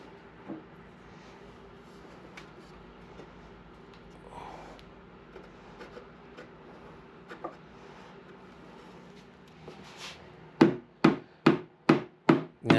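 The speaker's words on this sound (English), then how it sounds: "This is a rubber mallet. It doesn't mar the wood when you're hitting on it." A rubber mallet knocks on the wood of an old rocking chair being restored, five loud, evenly spaced thuds near the end after a quiet stretch of faint workshop handling sounds.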